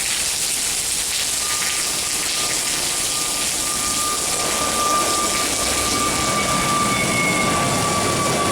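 An airplane lands or takes off at Salvador airport in heavy rain, a steady broad jet roar with a thin rising engine whine, all layered over the constant hiss of the downpour.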